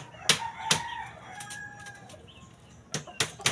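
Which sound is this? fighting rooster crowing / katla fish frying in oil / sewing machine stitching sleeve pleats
fighting rooster crowing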